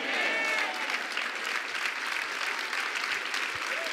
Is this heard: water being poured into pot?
no